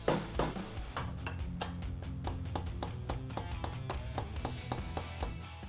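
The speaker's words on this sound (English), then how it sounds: "Now I'll knock this axle through." Rear axle of a Harley Davidson being knocked through the wheel hub during tire removal, a steady run of sharp metallic taps and knocks repeating about twice a second, close and fairly loud.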